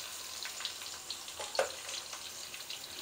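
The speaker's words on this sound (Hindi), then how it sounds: "चिकन को प्याज़ों के साथ फ्राई करेंगे।" Half a kilo of chicken fries with onions in a pan, a soft steady sizzle with small pops and crackles throughout.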